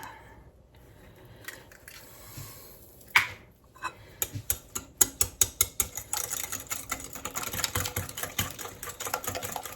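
An egg whisked by hand in a bowl for banana muffin batter, a quiet start giving way to rapid, rhythmic clicking strokes that grow denser and steadier, close and alone.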